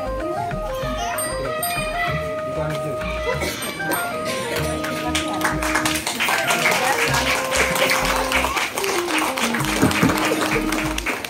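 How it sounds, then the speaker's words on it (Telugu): Audience applause at a Ganesh Chaturthi celebration with kids' traditional singing, a crowd clapping that swells in the second half over tonal music and scattered voices. "Okay claps."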